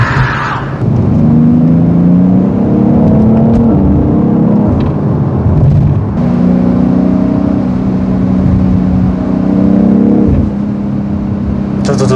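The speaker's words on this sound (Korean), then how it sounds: "두두둥 이렇게 소리가 들려요." BMW X3 M Competition engine and exhaust while driving, a steady low droning rumble with gentle rises in pitch as it accelerates, heard from inside the cabin with a few faint clicks and brief dips.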